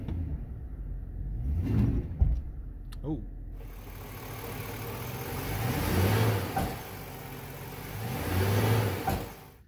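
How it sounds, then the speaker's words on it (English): A 2005 GMC Sierra 1500 engine is revved in reverse against the brake to load the driveline, rising and falling in three loud surges with a clunk, and someone speaks briefly. "So we're going to put it in reverse, load the truck like it has a trailer on it."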